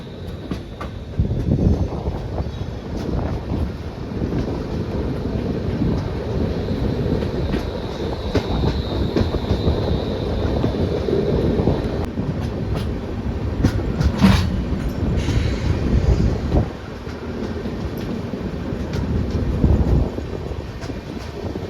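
The Padatik Express train rumbles steadily along the tracks past Raninagar near Jalpaiguri Junction without stopping, a loud continuous roar with rattling and wind buffeting, and no voices.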